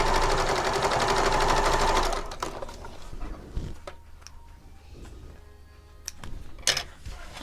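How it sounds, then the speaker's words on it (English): A sewing machine runs a steady, loud whirring stitch across a folded fabric end for about two seconds, then stops, leaving quieter handling clicks and rustles of the cloth. "And I'm going to go ahead and sew across it."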